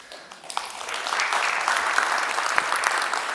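An audience applauds at a live evening event, steady dense clapping that swells after the first half second and holds at a moderate level throughout, with no voices over it.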